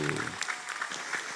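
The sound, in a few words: audience applause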